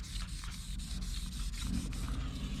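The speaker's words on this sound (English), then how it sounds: "You can see how I can just sand it" Hand sanding smooths a small bump on stainless steel car trim, a rapid, close scratchy rubbing with quick back-and-forth strokes repeating several times a second, steady and moderately quiet.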